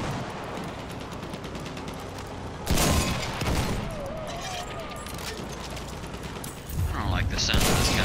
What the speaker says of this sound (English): I don't like the sound of this gun